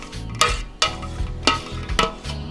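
Macaroni noodles and cheese being stirred in a big bowl, with a few sharp scraping clacks of the spoon against the bowl over a low, thick squelching churn.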